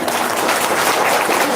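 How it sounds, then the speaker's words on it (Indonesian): A short burst of dense, steady applause from a crowd, loud and continuous. "Tepuk tangan dong."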